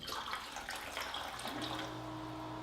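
Alkaline water at pH 9.5 pours from a Kangen machine into containers, a steady rushing splash close by that settles into a continuous even flow toward the end.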